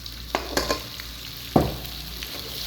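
Okra pieces frying in hot oil in a pan, a steady soft sizzle broken by several sharp scraping clacks of a spoon stirring, one louder scrape near the middle.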